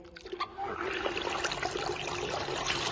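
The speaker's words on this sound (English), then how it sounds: "We can feel the noise is low and the water pumping is continuous and forceful." A SHYSKY 24VDC 86W speed-adjustable DC pump moves water in a continuous, forceful stream, a steady close trickling and rushing flow after a short choppier start, with no voices.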